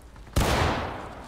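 A single loud gunshot in the Civil War game War of Rights, during a cannon fort battle, cracks sharply and decays over about a second, with no talk.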